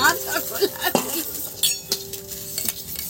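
A spoon clinks and taps against a glass while stirring cornflour into water for a fish recipe, giving irregular close metallic chinks, with a person talking over it.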